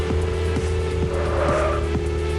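Car in the driving game Mad Out 2 revving at a steady high pitch as its tires squeal repeatedly, with loud skid bursts recurring every half second over a constant engine drone.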